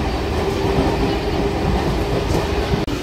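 At Ranaghat station, a train comes into the platform with a close, loud, continuous rumble of rolling wheels and faint rhythmic clatter over about three seconds.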